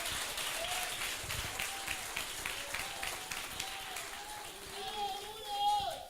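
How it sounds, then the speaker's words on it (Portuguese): A church congregation applauds the Lord during a fervent worship service, scattered clapping with voices and shouts mixed in, a sustained crowd sound of moderate loudness. "Agora pode aplaudir ao Senhor"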